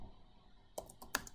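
Someone types on a computer keyboard while entering text in project scheduling software: a few quiet, sharp keystrokes in a short, irregular burst after a brief silence.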